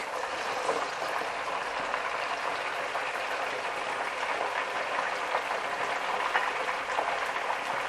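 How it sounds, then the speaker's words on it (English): Steady, dense sizzling and bubbling of chicken frying in hot oil in a wok, close by and continuous with no voices. "we've just finished frying the chicken"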